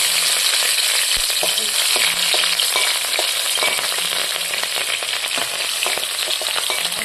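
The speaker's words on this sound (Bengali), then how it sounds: "প্রথমে দিয়ে দিচ্ছি তেল, দিয়ে দিব কাঁচা লঙ্কা" Oil and green chilies frying in a pan before greens go in, a loud continuous close sizzle with light scraping of a stirring spoon throughout.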